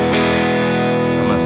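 An electric guitar runs through a NUX Masamune booster placed ahead of a NUX Kompressor, giving a subtle driven tone held as a steady sustained chord, with the attack of a new strum near the end.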